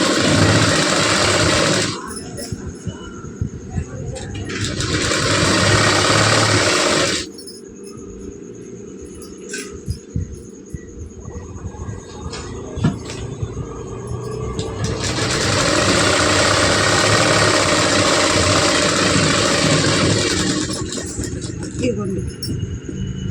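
Sewing machine stitching lining cloth, running in two long bursts of fast, even whirring with a quieter pause between. Someone speaks in the gap and over the motor.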